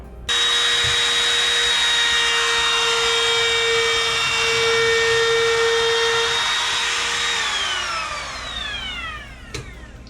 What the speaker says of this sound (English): it's going to glide nice and smooth as we're going around routing